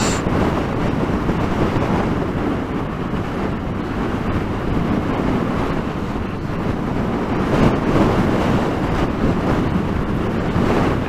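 Strong wind buffets a motorcycle rider in extreme weather on a potholed road, making a loud, continuous roaring rumble with gusts that swell and fade, with no talking.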